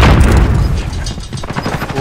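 Rapid gunfire and booming blasts from a Call of Duty Warzone match on Rebirth Island, loud overlapping shots in quick succession.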